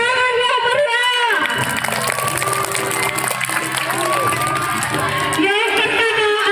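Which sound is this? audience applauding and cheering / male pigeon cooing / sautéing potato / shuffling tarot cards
audience applauding and cheering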